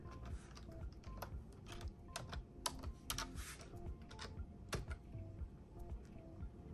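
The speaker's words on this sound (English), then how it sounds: "So I am going to save this image to a folder and just call it Sonic" Computer keyboard keys click in quick irregular bursts as a file name is typed, close and fairly soft over a steady background hum, with no voices.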